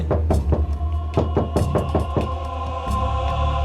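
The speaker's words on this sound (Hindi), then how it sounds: "दरवाजे के अंदर धक धक हो रहा है।" Knocking on a door in a horror show, a series of sharp, irregular thuds in a dark room with a low hum and tense music underneath.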